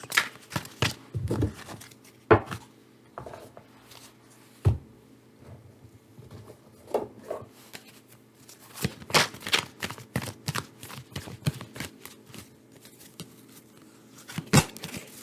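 Tarot cards are shuffled by hand in repeated bursts of quick riffling and slapping, close and crisp, with short quiet pauses between rounds and no talking.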